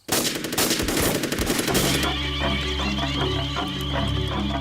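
Burst of automatic gunfire in a 1999 film, loud and rapid, crackling shots following a shouted order to fire, then giving way to a sustained droning tone with rhythmic thuds.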